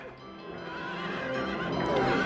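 A carousel horse in the Silent Hill 3 amusement park neighs loudly in a single drawn-out whinny that rises in strength toward the end.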